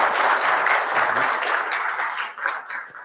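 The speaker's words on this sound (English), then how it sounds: "Let's give a round of applause for Karsten." Round of applause from a conference audience at a tech talk event in Istanbul, a dense steady patter of many hands clapping that holds for about three seconds before thinning slightly toward the end.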